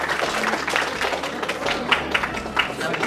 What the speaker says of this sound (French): Kim Burley, on peut applaudir bien fort Kim Burley